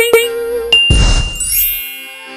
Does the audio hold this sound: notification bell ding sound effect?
yes